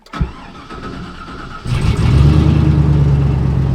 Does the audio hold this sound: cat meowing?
no